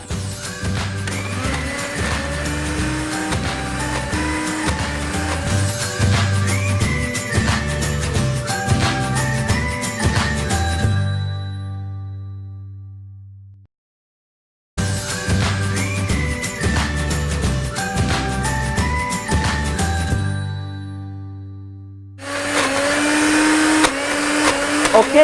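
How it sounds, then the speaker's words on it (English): A kitchen blender runs loud and steady blending celery, its motor droning and straining in long continuous stretches, stopping briefly before restarting, then a final higher-pitched whirring burst. "So that we don't strain the blender"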